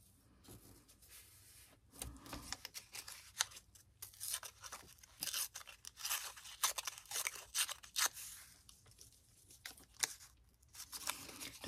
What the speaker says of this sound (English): So I'm just going to fold it to help me tear it more easily.